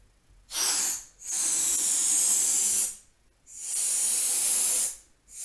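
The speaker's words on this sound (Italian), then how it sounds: "Adesso devo gonfiare i palloncini con l'elio" Helium gas hissing from a tank valve into balloons, in three long steady bursts with short quiet gaps between them, close and loud.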